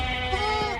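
A goat on a farm gives a single short, wavering bleat, close and loud, with no other sound around it.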